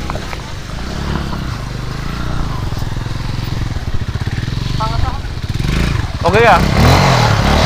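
A small motorcycle passes nearby, its engine putting out a rhythmic putter that rises and swells toward the end, with people talking over it.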